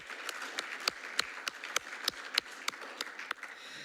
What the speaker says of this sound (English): I'm going to give you a round of applause for your hard work